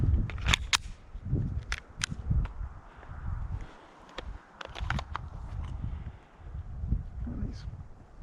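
Handgun shots at an outdoor shooting range from about 7 or 8 yards, several sharp cracks fired at an unhurried pace, some in quick pairs, with wind noise and light movement between.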